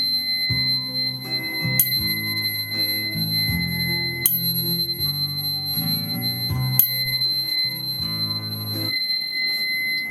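A high, pure tuning fork tone repeats several times, each strike bright and sustained, pitched an octave up at about 4096 Hz, layered over a steady low hum; no voices.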